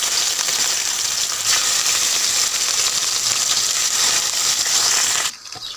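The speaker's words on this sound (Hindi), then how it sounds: "अब हमने कढ़ाई में घी डाल लिया है। अब हम इसमें डालेंगे चिकन।" Chicken pieces hiss and sizzle in hot ghee in a kadhai, a loud, steady frying crackle lasting several seconds before abruptly dropping away.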